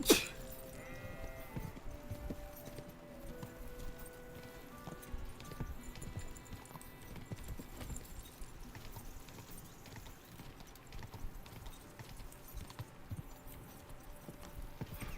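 Horse hooves clip-clopping steadily in Kingdom Come: Deliverance II, a continuous rhythmic patter under game ambience, with faint sheep-like bleats mixed in.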